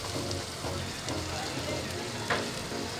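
Green chillies dropped into prawns frying at a seafood stall in Diu's Bandar Chowk, a dense continuous sizzle with faint stirring, fairly quiet and steady throughout.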